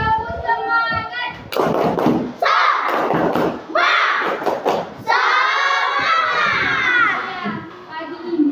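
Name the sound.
schoolchildren doing rhythmic spirit clapping (tepuk semangat)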